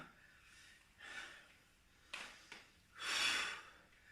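Heavy exertion breaths during squat exercises in a combat-style workout, several loud, close huffs and gasps spaced a second or so apart, with no talking.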